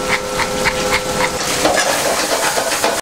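Salmon fillet frying in a restaurant pan, a steady close sizzle with soft clinks and stirring scrapes throughout.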